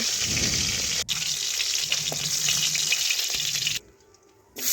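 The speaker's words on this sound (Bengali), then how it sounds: "আলুগুলো আমি তেলের মধ্যে দিয়ে দিলাম দেখুন এইভাবে নাড়াচাড়া করে আমি ভেজে নিচ্ছি" Thin-cut potato strips frying in hot oil as they are stirred, a steady loud sizzle with occasional scrapes and a clink, cutting out briefly near the end before resuming.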